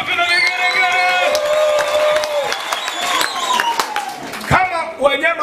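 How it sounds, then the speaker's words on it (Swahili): A church congregation during a sermon bursts into loud clapping and high, warbling ululation trills, with sharp claps ringing out over overlapping shrill voices and cheering crowd noise from start to finish. "Pigia Yesu makofi na vigelegele."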